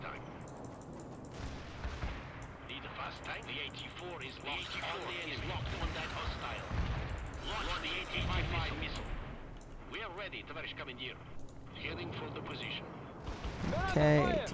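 Machine gun and artillery fire from the World in Conflict game, Soviet Assault campaign: repeated booming blasts and rattling bursts of gunfire at moderate loudness, mixed under continuous talking.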